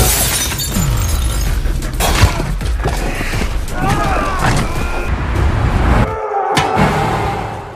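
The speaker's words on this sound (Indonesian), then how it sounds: "Namun sialnya obat bius itu pecah" A glass vial of sedative shatters in a tense thriller scene, a loud sharp crash with scattered tinkling fragments set among dense, busy mechanical noise and rumble, then an abrupt drop before further clatter.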